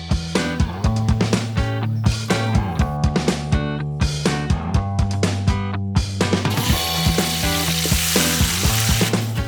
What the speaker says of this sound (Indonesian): Lanjut, daging tiram tak tumis bersama bumbu yang sudah dihaluskan